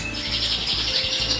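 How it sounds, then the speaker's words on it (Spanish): Small birds, apparently show canaries in a breeding room, chirp in a quick, high, steady twitter, close and clear with no speech over them. "¿Veis los pajaritos aquí?"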